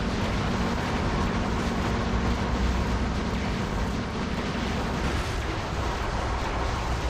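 Heavy, continuous weapon fire from a mech in Metal Wolf Chaos, a loud, dense barrage of booming shots and blasts that runs unbroken for several seconds, close and overwhelming, without any talking over it.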